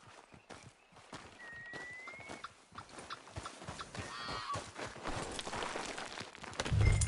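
Horse hooves clip-clop at a walk in Red Dead Redemption 2, a steady stream of hoofbeats close by, with occasional whinnies and ambient outdoor game sounds around them.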